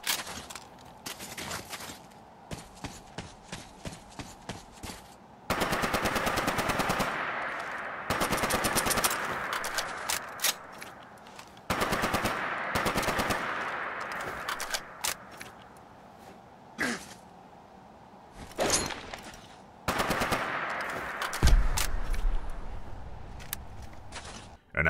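A Scar-H rifle mod firing in Fallout 4 on a range: bursts of rapid automatic gunfire alternate with single cracking shots and brief pauses, loud and close, with occasional reload clatter and a voice speaking at times.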